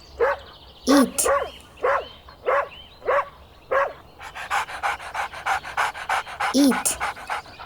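A dog pants in quick, close bursts, breaking into a run of short, rhythmic barks and yips that keep on to the end, with a whimper-like vocal sound in among them.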